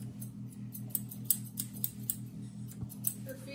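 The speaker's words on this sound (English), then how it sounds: "And then the trimming of the leg." Scissors trim the leg fur of a golden retriever with quick, soft metallic snips in an uneven rhythm, close by over a low constant background hum.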